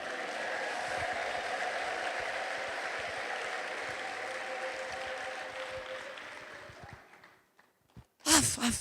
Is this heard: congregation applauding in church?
yes